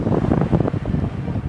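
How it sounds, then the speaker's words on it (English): Strong wind in the high 20s gusting to 30 knots buffets the microphone aboard a Colvic Watson 32 motorsailer running downwind under spinnaker and mizzen, a loud, fluttering roar with water rushing beneath, no speech. "The wind is in the high 20s, occasionally gusting 30."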